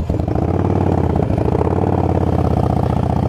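A motorcycle engine idles steadily and loudly up close with a low, even rumble and light mechanical clatter, alone without talk, at a spot set up for wheelie practice.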